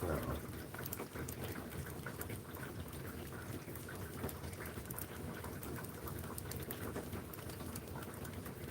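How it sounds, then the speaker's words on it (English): Cold rain falls steadily on a raw, chilly day, a soft continuous patter with faint scattered drips, heard alone at low level. "A cold rainy day like today, that cold just cuts right to your bone."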